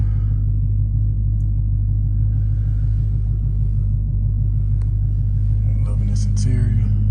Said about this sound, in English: First driving a Hellcat, about to leave the dealership.